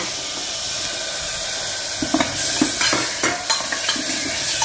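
Mutton bone pieces fry in a pot for homestyle soup with a constant hissing sizzle, and clattering stirs and scrapes join in midway.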